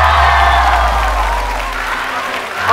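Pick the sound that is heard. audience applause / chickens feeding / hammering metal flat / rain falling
audience applause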